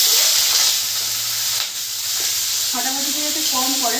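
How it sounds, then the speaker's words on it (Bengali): Dried red chillies spluttering in hot white oil in a pan, a loud steady sizzling hiss that continues throughout, with a voice speaking briefly over it toward the end. "আর দুটো শুকনো লঙ্কা দিয়ে দিয়েছি। এবার তো ফটাফটি করতে পারে"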